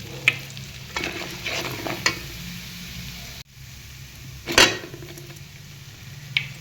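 Mango bhadang, a spiced puffed-rice snack dressed with chilli powder, sizzles steadily in a pan while a spoon scrapes and tosses it, with a brief louder burst of frying midway and scattered clinks against the metal.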